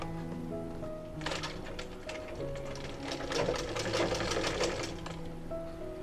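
Close, continuous whirring of a sewing machine running a double seam on ladies' pants, rising in intensity midway, over soft background music.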